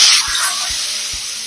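Tomato pieces frying in an oiled grill pan give a steady close sizzle with soft intermittent thumps from stirring.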